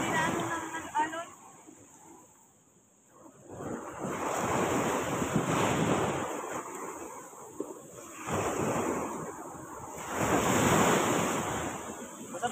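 Ocean waves surge and wash in repeated swells, loud and close, with heavy wind buffeting the microphone and a brief voice at the very start.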